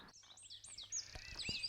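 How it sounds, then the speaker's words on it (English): Several birds sing and chirp in a dawn chorus at 5:30 in the morning, quick whistled phrases overlapping with a couple of sharp clicks, moderately close and clear against quiet surroundings. "The birds are already singing."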